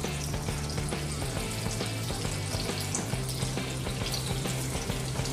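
Vegetable Manchurian balls frying in hot oil give a steady, dense, close sizzle that bubbles evenly from start to end, with no voices.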